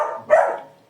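A dog gives a single sharp, close bark that rises out of a low background whine and fades quickly, with no talking.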